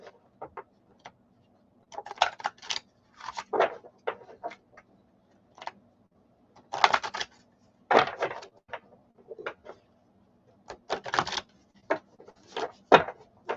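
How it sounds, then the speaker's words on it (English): Bursts of crisp tarot card riffling and slapping in uneven clusters, close by, with short pauses between shuffles and no talking. "Cards not wanting to shuffle."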